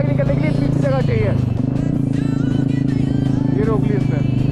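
Motorcycle riding on a dangerous mountain road on a Chandigarh to Manali trip, the engine droning loud and close throughout with shifting tones as the rider slows, while people talk over it.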